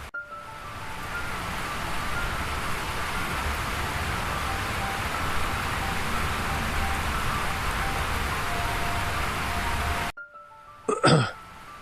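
Heavy cartoon rain pours in a loud, steady hiss for about ten seconds, then cuts off abruptly, followed by a short burst of another noise.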